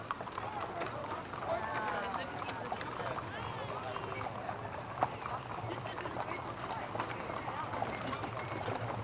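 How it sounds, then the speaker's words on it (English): Horses' hooves clop along the street in a Saratoga Springs parade in August 1987, a busy rhythmic patter under crowd noise and nearby voices. "we got one of the horses from Saratoga harness races"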